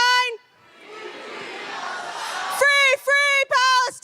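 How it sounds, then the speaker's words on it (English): A crowd at an outdoor tree lighting event joins a chanted call in a broad swell of mixed voices, punctuated by a few short shouted phrases near the end. "attempting to lead the crowd in a Free Palestine chant"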